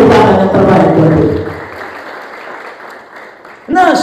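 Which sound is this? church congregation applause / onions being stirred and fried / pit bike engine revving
church congregation applause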